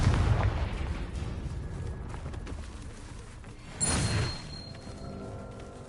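A Confringo fire spell in Hogwarts Legacy goes off as one sharp, loud blast about two-thirds through, set against rumbling, noisy battle ambience that is heavier at the start.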